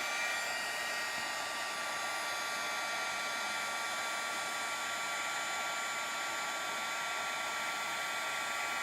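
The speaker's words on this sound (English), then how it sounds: "we're going to now heat this up with a heat gun." A heat gun blows steadily on embossing powder over cardstock, a constant close whooshing airflow hum with no change in tone from start to finish.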